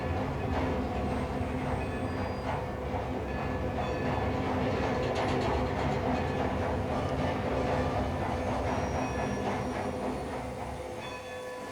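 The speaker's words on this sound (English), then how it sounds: "I'm just sitting on a train!" Train rolling along rails in the Red Dead Redemption 2 video game, a steady continuous rumble with faint rhythmic clatter and a distant bell-like tone, holding even throughout with no talk.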